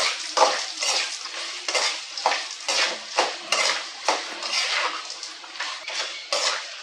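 Urad dal sautéing in a pan until golden, with repeated metal spoon scrapes and clinks against the pan over a soft sizzle, close and rhythmic, no talking.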